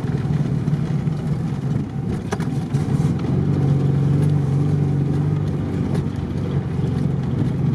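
A ZAZ-968M car on an off-road trophy raid accelerates with a continuous low engine drone that rises gradually in pitch, heard from inside the vehicle.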